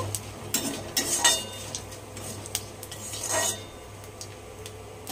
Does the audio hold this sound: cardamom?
yes